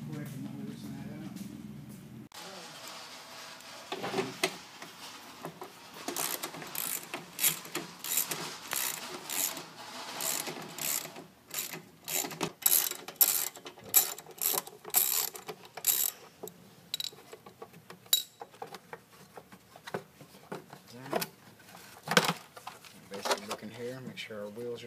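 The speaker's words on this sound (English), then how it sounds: "Let me grab a wrench real quick and we'll loosen that up." A wrench ratchets and clicks while loosening screws on the plastic belt housing of a 3725 dethatcher, in close, irregular bursts of rapid mechanical clicks with a voice talking at times.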